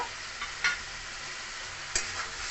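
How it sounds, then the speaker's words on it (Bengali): Spice paste frying in oil sizzles steadily while being stirred, with a couple of sharp scraping clicks of the utensil against the pan, close and without voices. "ভালো করে নাড়াচাড়া করে মশলাটাকে ভালো মতো কষে নেব।"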